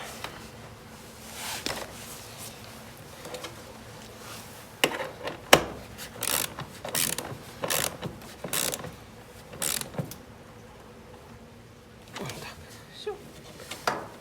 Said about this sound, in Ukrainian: шайба, гровер і гайка. І прикручую.